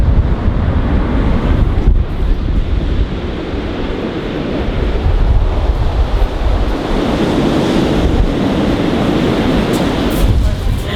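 Gnarly ocean waves break and roll on an Iceland shore, loud and continuous, with heavy wind buffeting the microphone throughout and no talking.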